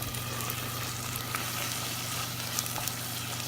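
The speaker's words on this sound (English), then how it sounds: "You can hear it sizzle. It's starting to caramelize." Onions caramelize in a pan on an electric stove at half heat, giving a steady, close sizzle with soft crackles throughout and no voices.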